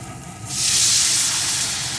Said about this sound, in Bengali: এখন দিয়ে দেবো এতে পরিমাণ মতো জল